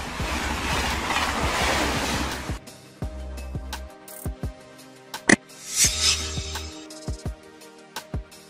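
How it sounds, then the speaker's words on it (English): A high-speed passenger train rushes past at close range with a loud broadband roar for about two and a half seconds, then trails off into scattered clicks, knocks and brief bursts of rail noise. "High-speed train."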